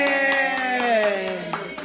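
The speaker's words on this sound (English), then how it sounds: "Okay, a round of applause for Kimmett." Applause comes as steady, evenly spaced claps, about four per second, under a sustained cheering voice.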